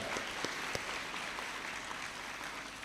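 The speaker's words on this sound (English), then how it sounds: "So give yourself a round of applause for that." An audience at a school sixth form valedictory service applauds. The clapping is steady and dense, with a few sharper claps standing out, and carries on for a few seconds without any speech.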